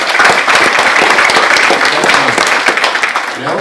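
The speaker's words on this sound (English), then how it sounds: "ladies and gentlemen, give them a round of applause" A crowd at a live local politics show in Gisborne breaks into sustained, loud, dense applause with many overlapping claps, and voices can be heard faintly underneath.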